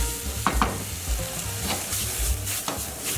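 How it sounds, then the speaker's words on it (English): Bean sprouts and tofu tossed in a wok for chicken pad thai, a steady close sizzle with scraping stir strokes and a few sharp clanks of a utensil against the pan. "Toss those together."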